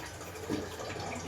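Tap water running steadily while something is washed underneath it, a close, continuous broadband splash with a slight surge midway, heard alone.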